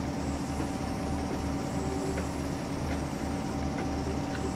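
A diesel freight shunter in Train Simulator 2015 rumbles along at a quarry, with a steady engine drone and a regular rhythmic clatter of wheels passing over rail joints, fairly faint and without talk.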